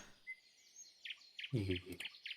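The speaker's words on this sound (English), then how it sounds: "the sounds of bird call, chirping and singing their little telltale songs" Several birds chirp and call in a snowless island forest near winter, short bright tweets repeating at a moderate distance, with a brief louder burst of lower chattering calls midway.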